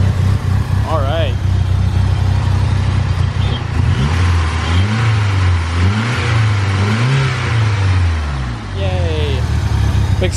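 A DSM car engine, its rattle now fixed, revs in repeated rising and falling surges up close, loud and throaty, with a brief dip near the end.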